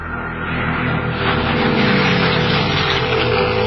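Military airplanes climb fast with a loud, steady propeller-engine drone. It swells slightly and holds throughout, with no voices.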